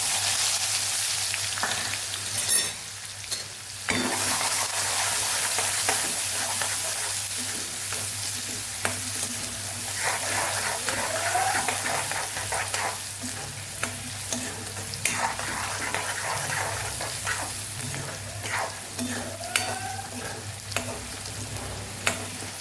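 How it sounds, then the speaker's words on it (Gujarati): Onions sauté in hot oil with cumin and asafoetida for a cauliflower and pea curry, a steady loud sizzle running throughout with occasional spatula scrapes and stirring clatter against the pan. "અને આપણે ડુંગળીને હવે સાતળી લેવાની છે"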